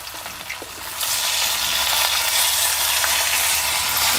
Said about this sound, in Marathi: तर आपल्याला पलटी करून आहे ना आपल्याला परत आहे ना असं परतून घ्यायचं दोन्ही बाजूने